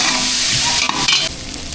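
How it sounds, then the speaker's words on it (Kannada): Ginger garlic paste fries in a pan for a jackfruit palya, a loud, close, continuous sizzle broken by the scrape of stirring, with no talk. "ಶುಂಠಿ ಬೆಳ್ಳುಳ್ಳಿ ಪೇಸ್ಟ್ ಚೆನ್ನಾಗಿ ಹೀಗೆ ಗೋಳಿಸ್ಕೊಳ್ಳೋಣ"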